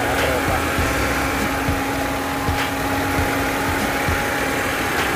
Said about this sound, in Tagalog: So maingay ng konti yung water pump niya kasi mumurahin yung water pump.